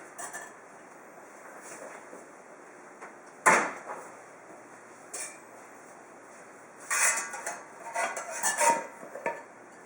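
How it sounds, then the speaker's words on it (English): Whole wheat no-knead bread being taken from an oven: quiet room tone broken by a sharp metallic clank, then scattered rattles of pans and racks, with a burst of clattering near the end. "My bread's ready now, so I'm going to get it out of the oven"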